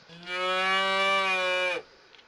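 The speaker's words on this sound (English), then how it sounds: "Oh, there's cow." A cow in the farming game Agricultural Simulator 2013 gives one sustained, clear moo lasting over a second, loud and alone with no talk around it.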